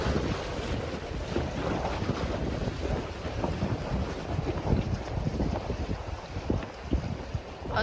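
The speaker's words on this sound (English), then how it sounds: "There's still a big breeze every once in a while." Steady wind gusting near the water on the Corpus Christi, Texas waterfront, roaring and buffeting the microphone throughout with faint lapping waves underneath and no voices.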